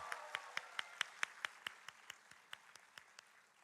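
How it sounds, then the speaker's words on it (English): Sparse, faint applause from an audience at a summit session, single claps landing in a steady, thinning rhythm, quiet and distant. "Let's have a round of applause."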